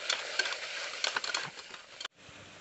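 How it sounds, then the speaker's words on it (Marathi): A spoon stirs masala with garlic, turmeric, asafoetida and salt into vegetables sizzling in oil in a pan for rice khichdi, brisk scraping and frying under no talk, stopping abruptly near the end. "छान हलवून घ्यायचं आहे।"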